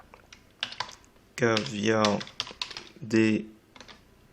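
Keyboard typing at a computer while redacting text in LibreOffice Writer, a few light clicking bursts scattered between louder spoken French phrases, fairly close.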